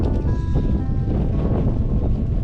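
Cold wind buffeting the microphone at a mountain campsite at Phu Thap Boek, Phetchabun, Thailand, in a steady low rumble throughout, loud and close, with no talking.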